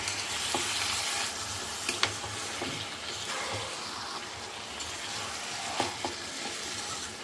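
Garam masala frying in a pan, a steady close sizzle with occasional stirring clicks and scrapes throughout, no voices.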